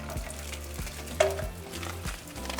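Five garlic cloves and dried chile pods frying in a pan, a steady close sizzle with occasional light scrapes and clinks of a utensil against the pan; no talking.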